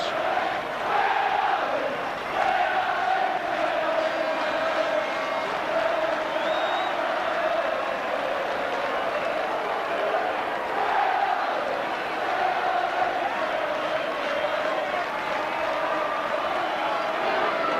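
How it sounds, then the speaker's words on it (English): Leeds rugby league fans roar in a packed stadium during a cup tie against Warrington, a sustained distant wall of crowd cheering and shouting with a commentator's voice over it. "I don't think these Leeds fans have seen a crowd like this for years"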